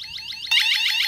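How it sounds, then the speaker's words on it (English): A 1byone wireless motion-sensor driveway alarm set to low volume: a rapid, repeating electronic warble heard close up, which jumps suddenly louder halfway through and keeps cycling with no voices. "This is a low chime"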